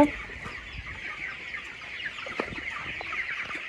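A crowded flock of farm chickens clucks continuously, many birds calling at once at close to moderate distance, with a few sharper individual clucks rising over the steady chatter.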